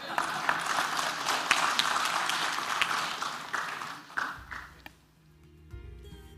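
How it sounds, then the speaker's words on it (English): An audience at a food service enterprise workshop applauds, a steady burst of clapping that fades out after about four seconds, followed by a quieter hum and a faint voice. "Request a slightly larger applause for Prashant"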